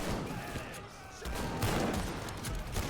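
Dense gunfire and machine-gun bursts from a WWI trench battle in the video game Over The Top, loud and continuous with overlapping shots, with a voice talking over it.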